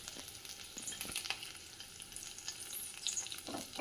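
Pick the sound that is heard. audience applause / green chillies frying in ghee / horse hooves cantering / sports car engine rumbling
green chillies frying in ghee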